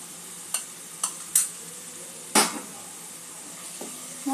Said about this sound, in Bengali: মশলাটা একটু কষে যাওয়া পর্যন্ত একটু অপেক্ষা করব।